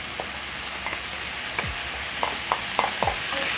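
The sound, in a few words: beef liver and tomatoes sizzling in a pan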